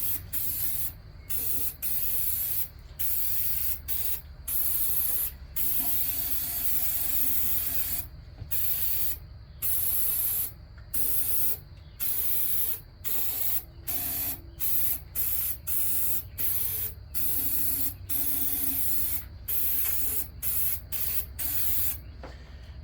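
An aerosol can of lubricant sprays into engine cylinders in repeated hissing bursts of varying length, broken by short pauses, close and clear with no talking.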